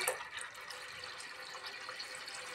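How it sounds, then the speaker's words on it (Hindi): Water from a glass poured into a pot of whole masoor dal with cumin, a soft continuous splashing and trickle, quiet and alone. "1 गिलास पानी इसमें मैंने और ऐड कर दिया।"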